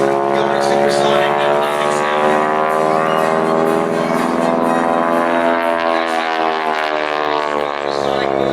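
A War Dog North American T-6 Texan at an air show, its propeller tips going supersonic with a loud, continuous harsh rasping drone that holds steady throughout, close and dominant.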